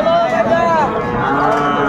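A heifer calf lets out a long, loud moo close by, its pitch sliding down, amid busy background noise of a crowd at a cattle market in Chittagong.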